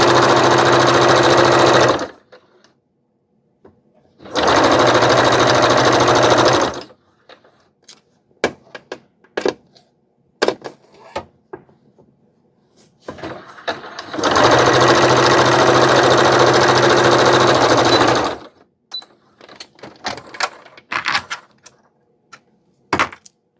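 Three loud, steady bursts of a sewing machine stitching a cotton gauze seam, each lasting a few seconds. Between them come quick clicks and fabric-handling rustles, close up and with no talking.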